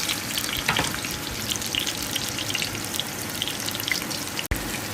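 Sliced red onion frying in olive oil, a dense, lively sizzle that stays loud and constant from start to finish, with no speech.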